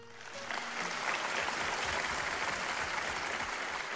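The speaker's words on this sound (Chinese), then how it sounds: "所以我们再次掌声送给焦老师。" A studio audience applauds a former director of the Shaanxi Provincial Institute of Archaeology, a dense, even patter of clapping that holds steady for several seconds without any voice.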